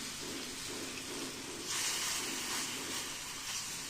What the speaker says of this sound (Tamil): இப்போ தோசைக்கல் அடுப்பில் வச்சுட்டு கொஞ்சமாக எண்ணெய் விட்டுட்டு இந்த மாதிரி 10 நிமிஷம் ஊறின அந்த பன்னீரை